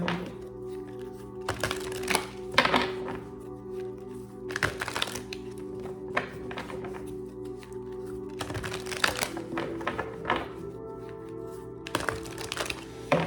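Tarot cards are shuffled in repeated bursts of quick riffling and soft slaps, close by and fairly quiet, with short pauses between rounds.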